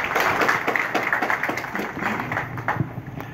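Warm audience applause at the launch event of a political party, a dense, steady wash of many hands clapping that carries on evenly for the whole stretch, fairly loud and close, with no speech over it.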